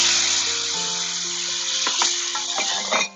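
Chopped tomato and turmeric sizzle steadily in a pan over a low flame, a continuous close frying hiss with a few scraping stirs near the end, alone without talk.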